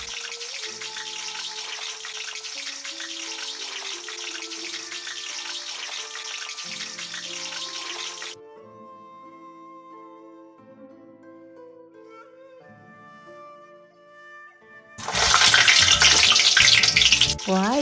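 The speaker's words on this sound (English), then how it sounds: "Fry the potatoes until they are crispy and fragrant." Potatoes fry vigorously in hot oil with a loud, dense sizzle that cuts off abruptly, leaving a quieter stretch with faint kitchen clinks, before a second burst of intense crackling sizzle.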